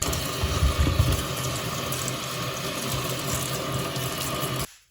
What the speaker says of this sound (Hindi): अब इनको अच्छी तरह धो लेंगे।